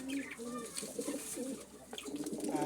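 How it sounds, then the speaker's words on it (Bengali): Pigeons in a backyard bird setup give soft, low, repeated coos at close range, with faint chirps and background voices mixed in. "আর এই যে কবুতর দেখেন গাইস।"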